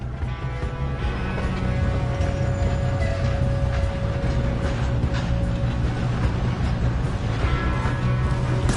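A train rolls along steadily in the video game Red Dead Redemption 2, a loud continuous low rumble with faint rail clatter and a sustained hum, unbroken and with no talk.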